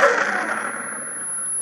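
A steady high-pitched ringing tone, a synthesized sine wave with slight distortion that mimics ears ringing after an explosion, sounds alone as a thin, sustained whine above a fading wash of noise.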